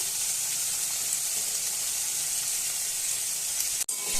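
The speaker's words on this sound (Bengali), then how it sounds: "তো এবার দিয়ে দেব কুচি রাখা পেঁয়াজটা" Chopped onion sizzles in a hot pan while making soybean momos, a dense continuous frying hiss with one brief dip near the end, close and steady.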